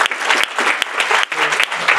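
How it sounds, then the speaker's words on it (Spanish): Audience applause fills a Spanish-language talk event with dense, steady clapping from a sizable crowd, close and loud throughout with a few brief dips. "Le damos un aplauso"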